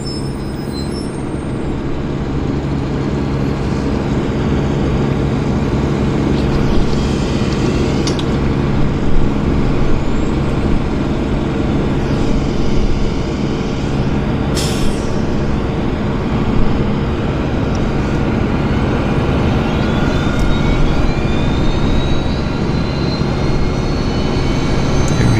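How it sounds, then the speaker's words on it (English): A WestJet jet airliner spools up for departure at Vancouver airport, giving a loud, steady, low engine drone with a faint whine on top that holds constant throughout, with occasional brief clicks and hisses. "WestJet's powering up for departure."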